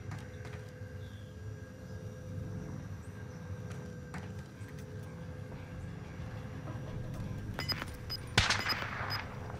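Gunfire crackles in Call of Duty: Modern Warfare, a low rumbling bed running under a short burst of sharp shots near the end.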